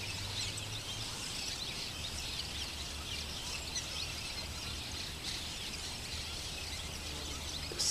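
Birds sing and chirp continuously at a peaceful riverside fishing spot, a steady chorus of high calls over a constant low wash of moving water, with no talking.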